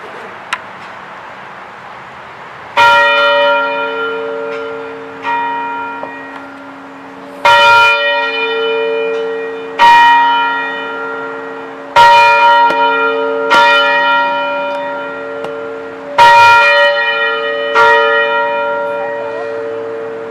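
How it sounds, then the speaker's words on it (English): A bell tolls at a 9/11 memorial ceremony, six loud, ringing strikes spaced a few seconds apart, each one left to hum and fade before the next, with no voices between them. "one tradition for remembering the lost is the tolling of the bell"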